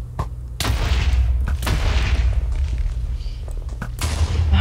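Explosive arrows blast players in Minecraft CubeCraft Kit PvP: several sharp booming detonations land at uneven intervals, each a sudden thud over a steady rumbling game background.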